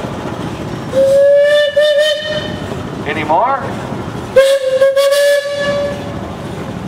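A steam locomotive whistle at an engineers club parade gives two long, loud, sustained blasts separated by a shorter toot, with someone talking and crowd noise in between.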